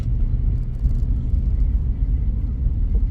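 An Alfa 159 drives over a potholed road, giving a constant low, heavy rumble of tyres and engine from inside the car, with no distinct separate jolts standing out.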